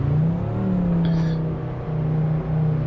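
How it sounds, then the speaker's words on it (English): An Audi RS3 engine in the Assetto Corsa Evo racing game, heard from inside the car as a steady, loud, low drone that rises and falls slightly. "That does sound like an RS3, I can tell you now. That is exactly how an RS3 sounds on the inside."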